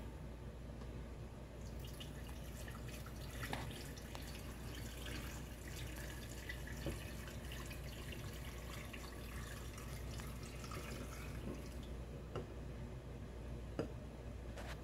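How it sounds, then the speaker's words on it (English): Pickling lime water is poured from a container over raw eggs in a bucket, a steady splashing, trickling stream with occasional drips, close and fairly quiet, running continuously. "take it and pour it in with the eggs."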